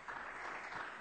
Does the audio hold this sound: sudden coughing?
no